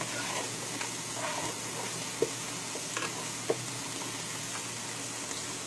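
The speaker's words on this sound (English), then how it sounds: "Give it a quick stir." Chicken and minced garlic sizzle in a pot while a utensil stirs them, giving a continuous frying hiss broken by a few sharp scrapes and clinks, close and moderately loud, with no voices.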